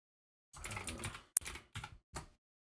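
Typing on a computer keyboard, a short burst of key clicks followed by a few separate taps, close and quiet against silence.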